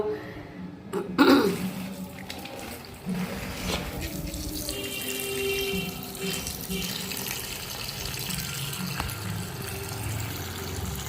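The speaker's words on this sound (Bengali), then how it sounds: "আমি প্যাকেট থেকে সবে নামালাম চিকেনটাকে ধোবো ধুয়ে আমি মশলা মাখাবো" Raw chicken, just taken from its packet, is rinsed under a running kitchen tap, giving a steady rush of water with splashing and handling throughout, loudest near the start.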